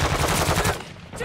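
A short, loud burst of rapid automatic gunfire from Call of Duty Modern Warfare 2, the shots stuttering in a fast rhythm before tailing off.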